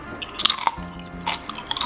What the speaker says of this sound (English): Pretty good crunch.